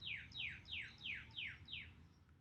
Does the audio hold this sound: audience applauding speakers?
no